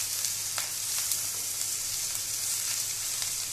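Cabbage and onions stir-frying in a hot pan with besan, a steady close sizzle and crackle throughout with occasional light clicks of stirring.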